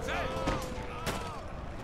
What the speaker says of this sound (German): Da höre ich auch noch ein paar Schüsse sogar von irgendjemandem.